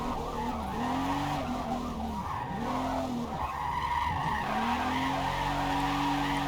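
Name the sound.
car tires skidding while drifting in Forza Motorsport video game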